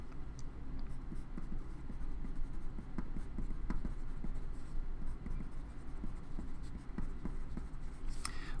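A pen or chalk writes a letter on a board, giving soft scratchy strokes and light taps in short irregular bursts over a steady low room hum, faint and close.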